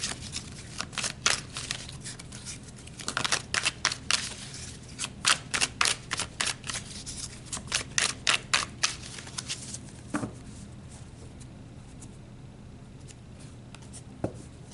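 Oracle cards shuffled by hand in bursts of crisp riffling and flicking, with short pauses between rounds, close and fairly quiet, no talking.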